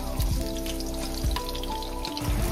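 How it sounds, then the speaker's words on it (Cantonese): Ginger, garlic and shallots sizzle and crackle steadily in hot oil left from pan-frying chicken pieces, a continuous close frying hiss with occasional low thumps of stirring. "開始爆香啲料頭"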